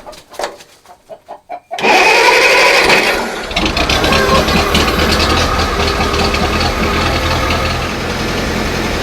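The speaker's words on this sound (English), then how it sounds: "I always let it run for a minute because these old Farmalls a lot of times are cold." Old IH Farmall Cub tractor on 12 volts: a few cranking chugs, then the engine catches at half throttle with choke and settles into a loud, steady running rumble with a brief surge as it warms.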